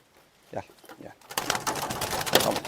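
Large racing pigeons are released, and after a few soft sounds a loud, close burst of fluttering wingbeats and rustling takes over.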